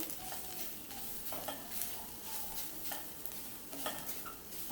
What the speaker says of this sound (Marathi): आता हे थोडे परतून घेते